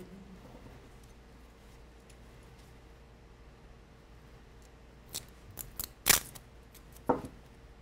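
Scissors cutting tape for a homemade gel electrophoresis comb, a few sharp snips late in the clip, close and fairly loud over a quiet room hum with no talking.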